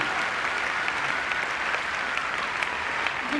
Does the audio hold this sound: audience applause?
yes